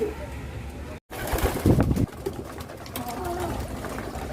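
Pigeons in a home loft coo softly and briefly, low and close, around a sudden loud thump and a short dropout, with faint background noise.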